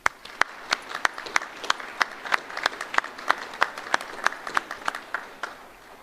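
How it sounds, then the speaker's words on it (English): A Navy Officer Development School graduation audience applauds the Navy band with sharp, distinct claps at a fairly quick, uneven rhythm, like a modest crowd in a large room. "please join me in giving them a round of applause"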